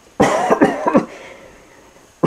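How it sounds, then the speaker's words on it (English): A man gives a few harsh, throaty coughs in quick succession, close and loud, then a pause before another cough begins. "he coughed"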